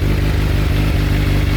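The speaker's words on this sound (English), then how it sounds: "Give y'all a couple of revs for a second." A Suzuki GSX-R1000 sport motorcycle with a full M4 exhaust revving loudly up close, a dense continuous roar with rattling mechanical clatter throughout.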